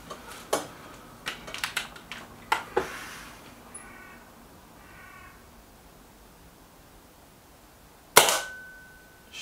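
Air rifle shots from a Kral Puncher Pro 500 and a Weihrauch HW 110 on a target range: a string of sharp cracks and pops in the first few seconds, then a quiet stretch before one loud, crisp report near the end.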